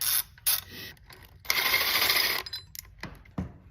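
Mechanical clicks and a ratcheting whirr sound up close as two 12mm bolts are backed out of a Nissan 370Z oil pickup, with short metallic taps between quiet pauses.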